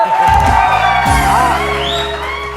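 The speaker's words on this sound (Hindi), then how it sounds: "तालियां तो बजाओ यार।" A studio audience at a TV morning show whoops and cheers, with shouts and yells rising over a music bed in a brief, loud burst.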